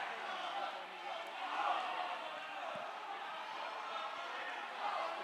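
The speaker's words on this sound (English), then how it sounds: "Great support from the crowd." Distant crowd cheering at an indoor rowing championship, a faint continuous roar of voices and whoops filling the hall with brief swells and no clear pauses.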